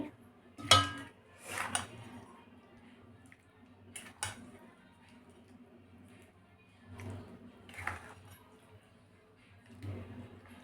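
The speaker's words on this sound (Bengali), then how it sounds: "তো এবার আমি প্রেসারে মাংসটা তুলে দিচ্ছি।" Mutton pieces being put into a pressure cooker in a home kitchen, with a few clinks and clatters of metal pot and utensils at irregular intervals against a quiet background.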